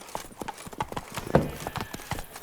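Roach, Geralt's horse in The Witcher 3: Blood and Wine, gallops in a steady, rhythmic clip-clop of hooves, fairly close and clear, with a brief louder thump midway and no talking.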